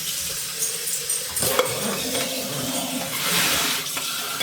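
Water sloshes and pours as it is dumped out of containers at a homestead, a continuous close splashing rush with a few clunks of the containers, and no talking.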